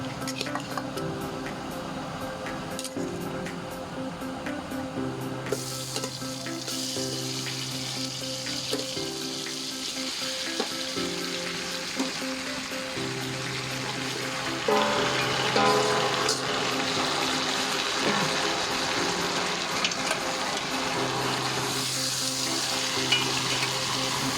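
Native chicken sizzles and fries steadily in a pot as it is sautéed for tinola, a continuous frying hiss with occasional stirring and scraping, growing a bit louder partway through, with no talking.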